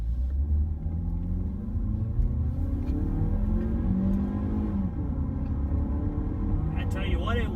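The 2.0L engine of a 2017 Mazda 3 revs in first gear toward 6,500 RPM, a rising droning whine over cabin rumble that climbs then drops off. A voice talks over it.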